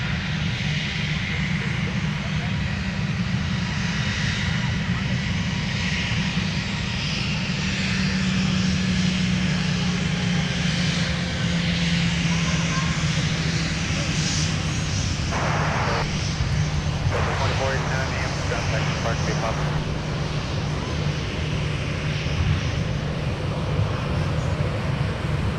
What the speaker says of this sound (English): That is Envoy Flight 4000 headed to Chicago O'Hare.